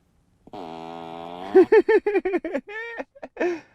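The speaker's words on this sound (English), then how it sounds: "you can activate each seat so that when someone sits on it, as you can hear, it makes a farting sound" Tesla Model 3 'Falcon Heavy' fart sound effect played from a car seat: a sustained buzzing tone that breaks into a rapid run of sputtering pulses, then a few trailing squeaky blurts, loud and close.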